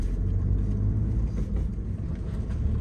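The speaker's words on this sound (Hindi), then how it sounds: "जैसे कि मेरी मैनुअल कार है तो मैनुअल में चौथे गियर में अब कार चल रही है" Manual car cruising in fourth gear through crowded local traffic, a steady low engine and road rumble running continuously without a break.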